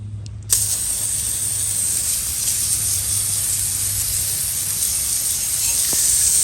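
Steady, loud hiss of a pressure washer spraying a 2003 Yamaha R1 motorcycle engine, continuous for several seconds after a sudden start, with a low hum underneath.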